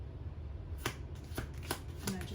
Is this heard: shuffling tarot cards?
yes